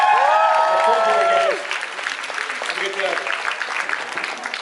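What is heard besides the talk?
audience applause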